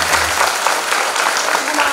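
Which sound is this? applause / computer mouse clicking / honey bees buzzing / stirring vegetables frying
applause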